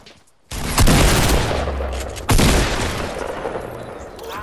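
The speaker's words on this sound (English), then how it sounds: "I'm actually gonna have to shoot this dude." Two heavy blasts of close gunfire in a video game, each a sudden loud onset followed by sustained roaring, rumbling sound that tapers between and after the shots.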